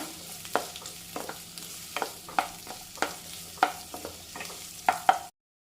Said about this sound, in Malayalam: ഇനി നമ്മൾ വാട്ടിയെടുക്കാൻ പോകുന്നത് സവാള കട്ട് ചെയ്ത് വെച്ചത്. ഇത് ഒന്ന് ജസ്റ്റ് ഒന്ന് വാട്ടി എടുക്കാം.